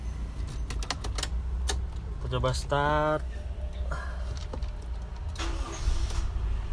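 2002 Toyota Kijang Kapsul 2.0 LGX in mint condition cranks with a rapid chattering starter burst, then catches and settles into a low idle, with someone talking around it.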